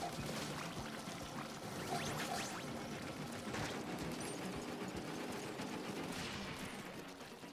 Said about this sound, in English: Shoot it, shoot it, shoot it.